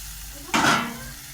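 Spice paste sizzles in a hot pan as coriander leaves and fried chilli are added, a sudden loud hiss bursting up and then fading to a softer sizzle.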